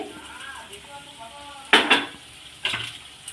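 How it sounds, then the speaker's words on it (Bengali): Peanuts stirred and fried in a pan with potatoes, a low sizzle punctuated by two bursts of rattling, scraping spoon strokes against metal, with faint talk early on. "বাদামটা দিয়ে ভালো করে একটু নেড়ে নেব"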